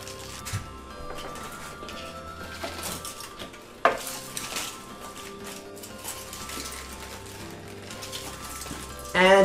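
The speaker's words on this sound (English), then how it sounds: "So I'm just gonna very carefully lift our foil and peel away your foil." Foil being lifted and peeled away from a cooled chocolate cake in its pan, soft crinkling and scattered clinks of the pan, with a sharp rustle midway and a louder crinkle at the end, under quiet talk.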